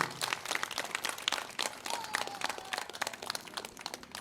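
An audience claps at a memorial gathering marking the 29th death anniversary of Palani Baba. The clapping is quick, sharp and continuous, fairly faint and distant, with a brief tonal whine partway through.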